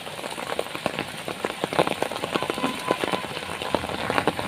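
Afternoon storm rain pattering on a nearby surface, with dense irregular drops and splashes over a low background rumble, no voices.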